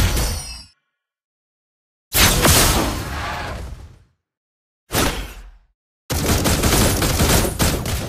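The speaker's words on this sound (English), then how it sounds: "Behold! My crescendo bullets!" Granger fires bursts of crescendo bullets in Mobile Legends: loud, rapid volleys of game gunfire in separate blasts cut by silent gaps, with no voices.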